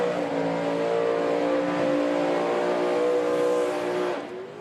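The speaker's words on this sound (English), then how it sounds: "it's always spectacular to look at when Niklas Södergren is driving his car. BMW 2002" A BMW 2002 drag racing car at a European drag racing championship accelerates hard, its engine note loud and close, holding a strained, rising roar for several seconds before trailing off near the end.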